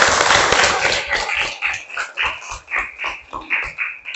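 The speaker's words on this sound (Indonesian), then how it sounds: "beri tepuk tangan dulu untuk kita semua" A classroom group applauding together, a dense burst of many hands at first that settles into slower, rhythmic unison claps, close and fairly loud.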